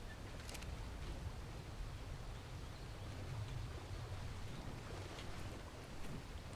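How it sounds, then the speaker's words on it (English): Soft, steady sloshing of a character wading through water in ARK: Survival Evolved, a low continuous wash with a few faint clicks and no speech. "Splashing in the water."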